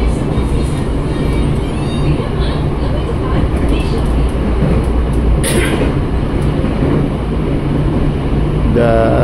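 A Tokyo Metro 6020 series KRL commuter train runs fast on the Cikarang line, giving a steady, loud rumble and rolling rail roar heard from inside, unbroken for the whole stretch.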